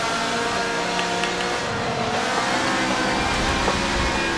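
A Ferrari race car engine in a racing game at the Spa circuit roars down a straight in a slipstream, a loud, sustained high-revving drone with shifting pitch and faint tire noise, no talking.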